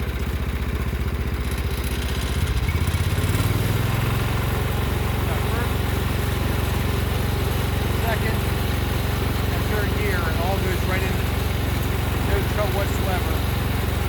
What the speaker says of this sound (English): I'm just going to hop on the tractor. I'm not going to use the choke at all whatsoever. Fires right up, as you can see.